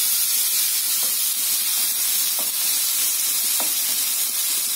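Chopped shallots fry with fennel seeds in a pan for a goat lung fry, giving a constant loud hiss-like sizzle with a few faint stirring taps.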